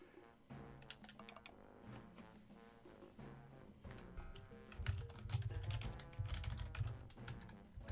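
Computer keyboard typing in a steady patter of quick clicks, set against a game's background music that swells with a heavier low drone partway through.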